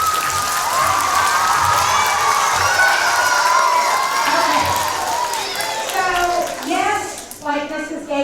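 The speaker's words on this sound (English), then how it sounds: "Let's give a round of applause to Ms." Children and adults at an elementary school gathering cheer and clap for a first grade teacher, Ms. Moore. The crowd is loud and lively, with high-pitched kids' shouts rising over the applause before it trails off.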